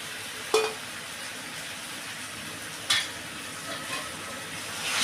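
Hot water splashes into spiced potatoes frying in oil in a pan, bringing steady sizzling with two sharp bursts as the liquid hits the hot oil, plus a faint clink of utensils, close and loud.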